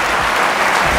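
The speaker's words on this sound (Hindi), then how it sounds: "जब तक सब ताली नहीं बजाओगे मैं आगे नहीं बढ़ूंगा यार" Audience at a Hindi comedy poetry gathering breaking into loud, dense applause, sustained clapping filling the whole short moment without pause.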